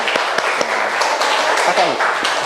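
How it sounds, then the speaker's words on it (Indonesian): A classroom group claps for the next student presentation team, with scattered, fairly close hand claps mixed under ongoing voices and chatter. "Ya, tepuk tangan dulu, tepuk tangan."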